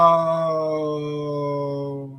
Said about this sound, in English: Dogs are barking too much.